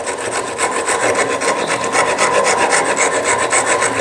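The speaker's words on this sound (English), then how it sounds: "So what I like to do is start with an aggressive tool like a rasp" A rasp files a rosewood guitar neck in steady, continuous strokes, with a close, dense, loud scraping that goes on without pause and no voices.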